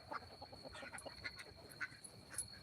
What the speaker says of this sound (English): And of course, these are our ducks.